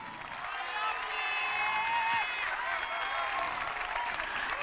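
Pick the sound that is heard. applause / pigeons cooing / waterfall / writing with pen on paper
applause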